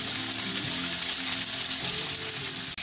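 Pork browning quickly on both sides in a frying pan, a loud, steady sizzle filling the clip, with a brief clatter near the end.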